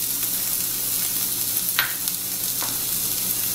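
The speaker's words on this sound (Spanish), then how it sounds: "Ya que calentó el aceite, ponemos nuestra estufa a fuego medio y agregamos la cebolla" Onion frying in hot oil in a frying pan over medium heat, giving a steady, even sizzle with a couple of brief clinks from a utensil, close and with no speech.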